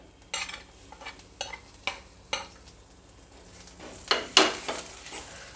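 Ground spices, ginger and black cumin frying in a pan: a faint low sizzle punctuated by several distinct spatula strokes and scrapes, with a louder cluster of stirring near the end.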